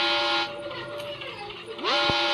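A train in the mobile horror game Granny's train escape sequence rumbles with a loud steady whistle that breaks off, then gives a sliding squeal and sounds again near the end, close and loud.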